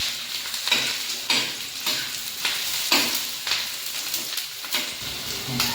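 Onion, garlic and ginger roast together in a pan for a Kolhapuri-style village chicken rassa, a continuous close sizzle with regular scraping strokes of a spatula about every half second.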